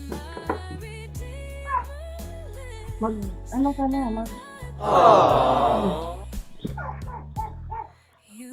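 A dog barks and yips in short, high, whimpering bursts, with one louder, strained yelp in the middle and a few closing yips. A person speaks briefly nearby.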